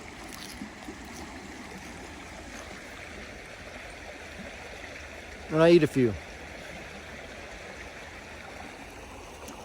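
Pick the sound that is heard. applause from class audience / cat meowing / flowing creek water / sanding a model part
flowing creek water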